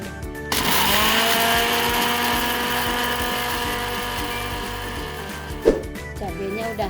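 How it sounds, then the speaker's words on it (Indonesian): An electric blender grinds red chilies for a Padang-style chili topping on beef-skin crackers, whirring loudly and steadily from just after the start, then cutting off near the end as someone talks over it. "Mau blendernya dikit-dikit dulu jadi cepat halusnya"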